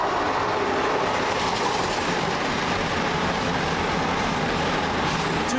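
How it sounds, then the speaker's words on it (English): An Arriva Cross Country train passes close by at Teignmouth, a loud, steady rumble of wheels on rail with faint clickety-clack, continuous throughout with no talk. "Next for Arriva Cross Country, 1 Mike 49 from Plymouth to Manchester Piccadilly"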